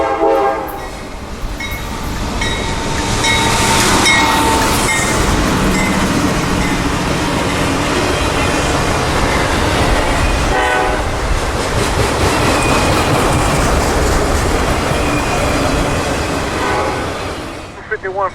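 A long CSX freight train of loaded auto racks rumbles past close by, steady rolling roar with clattering wheels and squeals, a horn sounding early on, fading at the end.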